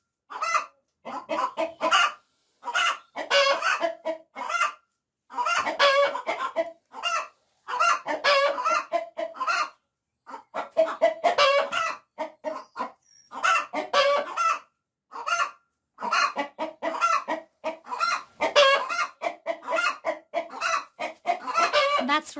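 Chickens cluck in busy, overlapping bursts, with a rooster crowing among them; the flock sounds close and noisy throughout, with brief pauses between outbursts.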